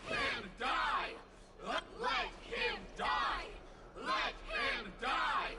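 A crowd in a video game cutscene yells and cheers in repeated rising bursts of massed voices, each swell lasting about a second, with short lulls between them.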